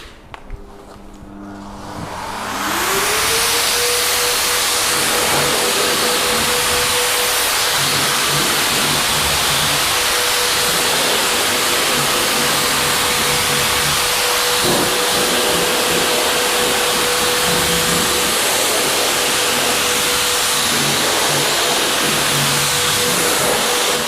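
A car blower dryer roars on steadily after a short ramp-up, loud and broadband, pushing water off a painted car panel, the noise sustained for the full stretch.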